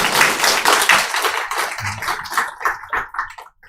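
A church congregation claps to welcome a visitor: dense, close applause at first that gradually thins into scattered individual claps and dies away near the end, with almost no talking.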